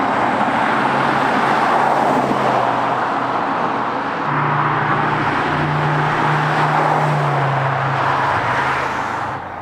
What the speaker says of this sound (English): They're both going to drive past now, 50 mile an hour in 4th gear